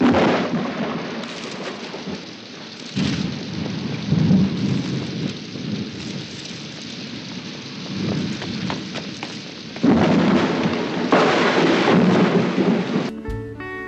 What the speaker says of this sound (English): Oh, Thunder scares me.